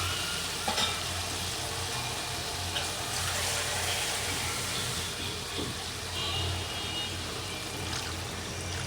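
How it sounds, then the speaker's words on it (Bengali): Curry broth is poured over masala-fried potatoes in a pan for a fish curry, bringing a continuous close sizzle and bubbling hiss with stirring and liquid splashes. "এখানে ঝোল অ্যাড করে দিব।"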